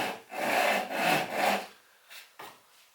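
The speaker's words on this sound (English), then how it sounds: "we're going to try the back saw" A back saw cutting wood for lamp legs, three rhythmic rasping strokes close by, followed by a pause and a couple of lighter scrapes.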